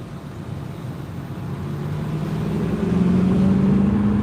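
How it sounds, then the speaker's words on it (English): An electric car plays an artificial V8-style exhaust sound that slowly grows louder, with a droning tone that rises in pitch over low road rumble, heard from inside the car with the window down. "It's got like an exhaust sound."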